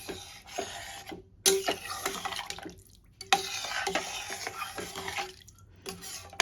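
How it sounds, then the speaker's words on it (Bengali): Tomato rice being stirred and mixed with water in a pot, wet scraping and sloshing strokes that repeat in an uneven rhythm, broken by short silent pauses. "ভালো করে মিশিয়ে দিতে হবে।"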